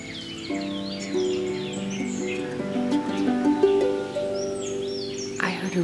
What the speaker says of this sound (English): Can you hear them chirping?